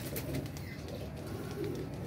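Pigeons cooing, a steady low murmur of several birds nearby without pause, no talk over it.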